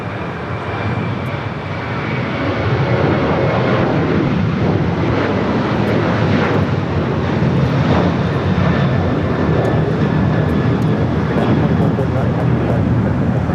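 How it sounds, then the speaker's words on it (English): A Virgin Atlantic Airbus A350-1000 arrives at LAX from London Heathrow as a heavy jet. A loud, sustained engine roar swells after the opening seconds and stays strong throughout, with talk in the background. "Another heavy arrival on the north side. Virgin Atlantic Flight 141 committed from London Heathrow, an A350 1000."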